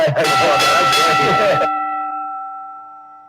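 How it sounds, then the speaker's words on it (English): A boxing bell rings for the main event at a Yankee Stadium fight, with crowd noise beneath the first strikes before a long clear metallic tone rings out and slowly decays alone. "There's the bell for the main event."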